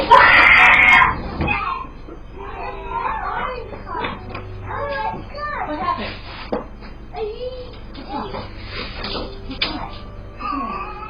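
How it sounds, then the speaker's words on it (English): A young boy screaming at a daycare, caught on a CCTV camera: a loud harsh burst of screaming at the start, then children's voices and chatter continuing in the background. "one little boy suddenly runs out of a room screaming"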